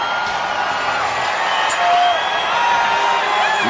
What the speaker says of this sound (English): You can hear the excitement begin to rise now. 1 minute. Listen to that crowd.